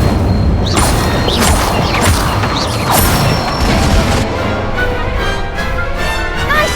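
Spells cast in the Hogwarts Legacy video game, a dense run of magical whooshes, booms, crashes and mechanical clatter, loud and continuous without pause.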